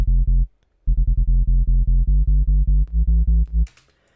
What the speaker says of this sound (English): So again, you could do a sine wave here and then distort the shit out of it.